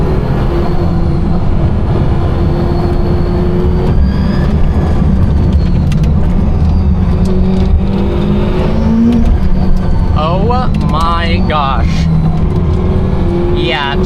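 Inside a Czinger 21C hybrid hypercar under hard acceleration, a loud, dense engine roar climbing in pitch through repeated gear changes, with sharp whining surges near the end over constant road and wind rumble.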